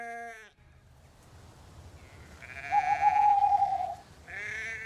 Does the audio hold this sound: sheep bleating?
yes